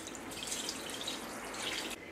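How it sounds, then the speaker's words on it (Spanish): Water poured into a pot holding canning jars for homemade apricot jam, a steady close splashing and trickling stream that runs throughout, quiet overall, then drops slightly near the end. "Y cubriremos de agua."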